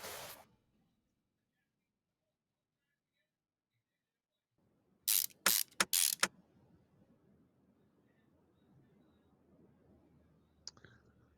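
A ratchet tightens bolts on a car in Car Mechanic Simulator 2021, giving a quick cluster of four sharp clicking bursts, then quiet background and one faint later click.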